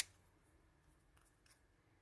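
Scissors snip through leftover paper in a few quick, close cuts, cutting out a paper butterfly, quiet and crisp, with no talking.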